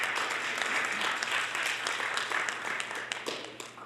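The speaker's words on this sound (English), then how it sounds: "we should give them a little round of applause" Steady applause from an audience, dense clapping sustained throughout at an even level, tapering slightly at the end.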